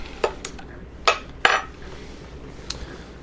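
Orange mint punch being stirred together with about a third cup of mint syrup, giving a few sharp clinks and knocks of a utensil against the container, brief and close, with quiet gaps between.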